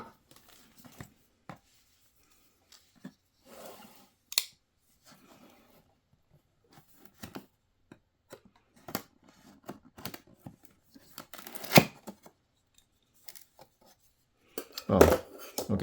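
Unpacking the package of a DXZtoz 3.9mm thin endoscope inspection camera: scattered crinkles, snips and taps of plastic and cardboard, sparse and close, ending in a louder rustling tear.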